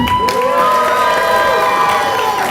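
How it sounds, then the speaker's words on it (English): A crowd of children at a Bellevue Earth Day event cheers and shouts together in one loud, sustained burst of voices lasting a couple of seconds. "everybody cheer for me"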